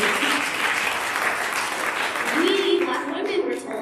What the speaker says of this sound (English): yes, we can clap for that, absolutely